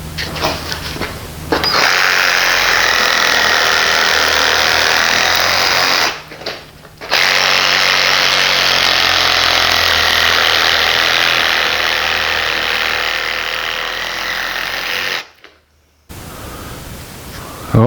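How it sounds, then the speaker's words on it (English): Saws rough cutting the trunk and branches of a Chinese hackberry bonsai, a steady loud rasping run for most of the stretch, broken by a short pause midway and a brief cutoff near the end. "Okay, I've done some rough cutting with my saws"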